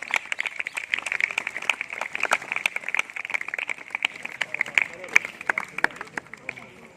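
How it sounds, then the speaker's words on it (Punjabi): Students and guests at a government senior secondary boys' school Independence Day event give a performer a welcome, with dense, lively hand clapping that goes on steadily and stays close over light crowd murmur. "ਇੱਕ ਵਾਰੀ ਜ਼ੋਰਦਾਰ ਤਾੜੀਆਂ ਨਾਲ ਸਵਾਗਤ"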